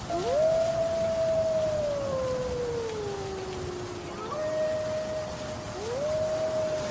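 Jackals howling, a sound effect in a Bengali ghost audio story, heard as a long, wavering, gliding howl that rises, sags slowly and rises again, moderately faint over a soft hiss.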